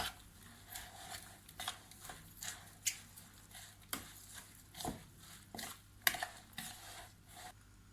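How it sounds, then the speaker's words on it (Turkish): Quiet, irregular clicking and light tapping, like a utensil knocking against a bowl while mixing potato omelette batter with parsley, with no voices. "Şimdi bütün malzemeyi karıştırıyoruz."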